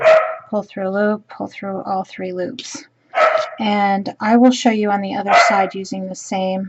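Household dogs bark in the background, close but partly masked, while a person keeps talking steadily over them during a crochet demonstration.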